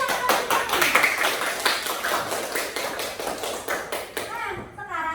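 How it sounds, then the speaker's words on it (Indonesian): Schoolchildren in a classroom clap their hands together in a quick, fairly loud burst of brisk clapping, with a teacher's voice talking over parts of it. "Tepuk tangan untuk kami."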